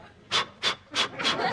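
A sick person pants heavily in a doctor's consulting room, four or five loud, labored breaths in an even rhythm, close to the listener with no talking.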